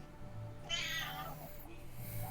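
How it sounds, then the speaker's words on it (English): A pet cat meows once, a short rising and falling cry heard fairly close against quiet room tone, with a faint low murmur beneath. "That's my cat."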